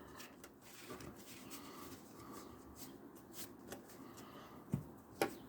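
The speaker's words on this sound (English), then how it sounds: "I'm gonna give it a nice shuffle here." A Yu-Gi-Oh Traptrix card deck shuffled by hand, quiet repeated riffling and papery flicks with a few sharper snaps near the end, close and faint.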